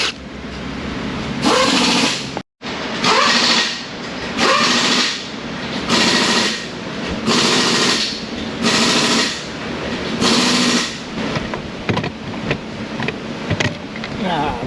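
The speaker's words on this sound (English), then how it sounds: "Shifter's next. 2 bolts, 2 studs, and an impact gun." An impact gun removes shifter bolts in an auto repair shop, firing in a series of loud, roughly regular bursts with short gaps between them, close by.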